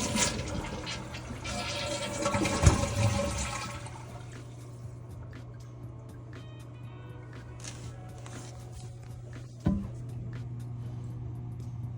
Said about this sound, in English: We're gonna flush it